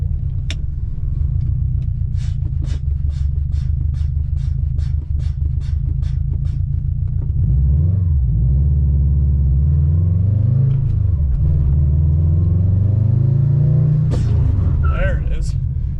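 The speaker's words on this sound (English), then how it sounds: "I don't know if I have enough brake pedal to get this ABS module to kick in." A Subaru STI idles and rolls with a deep rumble, then a rapid series of regular clicks and pulses comes through while braking as the ABS module kicks in, and the engine shifts pitch as the car moves.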